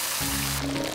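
Water poured in a brief, steady stream into a miniature cooking pot, with a rising filling tone, close and fairly loud, lasting about a second.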